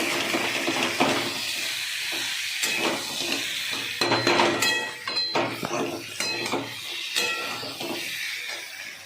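Taro being sautéed for kochu ghonto in a pan over a low flame, a soft hiss with intermittent clinks and scrapes of a spoon against the pan, close by, with a little talk.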